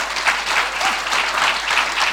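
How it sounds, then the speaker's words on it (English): A conference audience at an Africa Day event applauds a panel with dense, steady clapping that holds at an even, fairly loud level throughout. "A round of applause for our panel, eh?"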